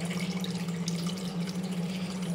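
Water poured into a cooking pot while pappu charu is being made, a steady continuous trickling splash with a faint low hum underneath.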